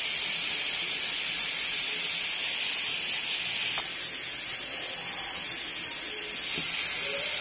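Hot water drains away from goat brains that have been boiled halfway. A steady, loud hiss of pouring and splashing water runs throughout, with a faint knock or two and no voices.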